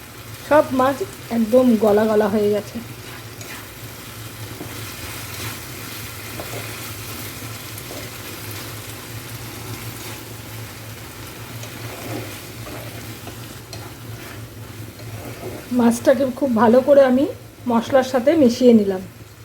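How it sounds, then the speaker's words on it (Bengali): Lote (Bombay duck) fish cook in a pan with a continuous low sizzle and faint hum, a few soft stirring scrapes in the middle, and a voice speaking at the start and end. "মাছগুলো অনেকটা নরম হয়ে গেছে মানে সেদ্ধ হয়ে গেছে এবার ভালো করে একটু নেড়ে দেবো"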